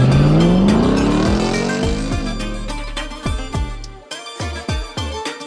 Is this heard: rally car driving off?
yes